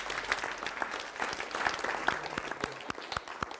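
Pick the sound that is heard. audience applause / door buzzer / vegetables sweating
audience applause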